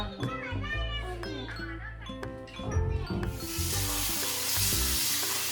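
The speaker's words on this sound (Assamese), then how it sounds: "এতিয়া মই পিঁয়াজ ভাজি আছোঁ মাংস বনাবৰ কাৰণে" People talk over clinking kitchen sounds, then a steady bright sizzle of onions frying in a pan for a meat curry takes over and continues under the voices.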